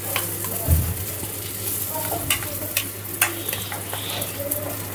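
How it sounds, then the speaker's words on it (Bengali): Eggplant slices fry in a pan at home, a soft continuous sizzle with occasional stirring scrapes and light clinks of utensils, while birds chirp faintly in the background. "অজুবা বেগুনটা ভেজে নিচ্ছে, এই যে সুন্দর করে।"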